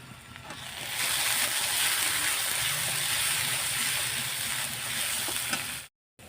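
Spice masala with turmeric and chilli powder for a vegetarian paneer curry fries over a hot clay oven while being stirred constantly, giving a steady, loud sizzle with soft scraping that stops abruptly at the end.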